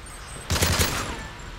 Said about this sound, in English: Explosive decoy on the way.